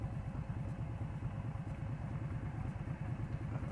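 A 2015 Indian Scout motorcycle engine idles close by with a steady low, rapid throbbing pulse and light mechanical clatter.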